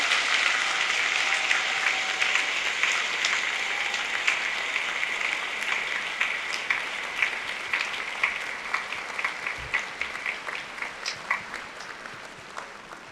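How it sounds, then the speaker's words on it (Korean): Audience applause at a university's 140th anniversary ceremony, a sustained broad wave of clapping from a large hall that gradually thins into sparser, distinct claps toward the end. "여러분 힘찬 박수 부탁드립니다."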